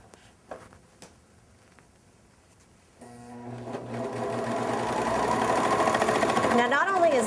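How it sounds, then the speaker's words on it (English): A serger sewing machine stitching layered quilt fabric starts up after a few light handling clicks, then runs as a steady, loud mechanical whir that holds and builds toward the end. "Take it to the serger, and we're ready to stitch."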